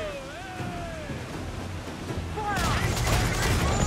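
Naval cannon fire in the Assassin's Creed IV Black Flag video game, a rumbling volley of booms bursting loudly in the latter half over churning sea noise, with voices talking over it.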